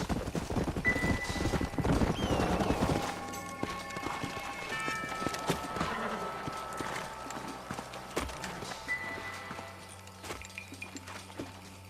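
Steady clip-clop of horse hooves at a brisk pace in the video game Red Dead Redemption, loud and close at first, then easing into a slower, fainter walk with a brief whinny.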